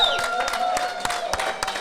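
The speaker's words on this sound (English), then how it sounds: "Please give him a round of applause." Crowd applauding guest Frank Martin, steady clapping with some cheering from a studio audience on a St. Patrick's Day hockey show, continuous through the moment with a voice present.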